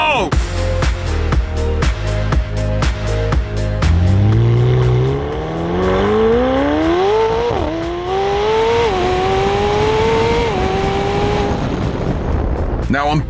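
A McLaren 720S sports car engine revs hard while driving on city streets, with quick throttle blips and gear changes at the start, then a long, loud rising roar through several upshifts, heard close and continuous.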